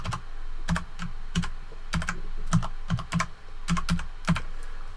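A master password is typed on a computer keyboard, with crisp close key clicks in short, uneven bursts and brief pauses between keystrokes, heard alone in a quiet room.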